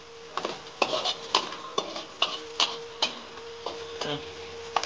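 Food being fried and stirred at a cooking spot on Pulau Kapas, Terengganu, with a utensil clinking and scraping in a steady rhythm of sharp taps over a soft frying hiss, moderately close.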